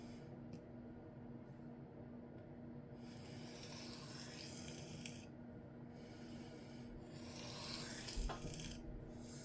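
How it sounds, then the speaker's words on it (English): Steady abrasive rasping of a Spyderco PM2 knife with a Maxamet steel blade being sharpened with very light pressure on a cheap 200-grit diamond plate, continuous close scraping strokes with a faint constant hum underneath. "You want to be in a zen-like mood to sharpen Maxamet."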